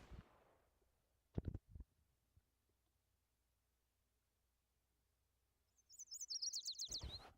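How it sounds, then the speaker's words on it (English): Birds chirping in the Blue Archive video game: a rapid series of high tweets rising near the end of a mostly quiet stretch, preceded by a few soft thumps, with no voices. "Yeah, I hear the birds chirping."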